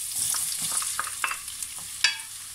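Onion and garlic fry in rapeseed oil in a pot, a steady close sizzle broken by scattered crackles and stirring scrapes, one sharper clatter near the end, no voices.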